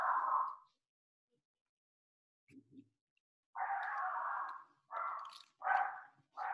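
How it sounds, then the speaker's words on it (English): A pet dog barks indoors in short, separate bursts, one sharp bark, then after a pause a low grumble and a run of three or four quick barks, moderately close with silence between them. "Yes, that's my dog."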